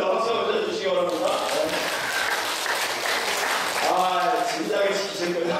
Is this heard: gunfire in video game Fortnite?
no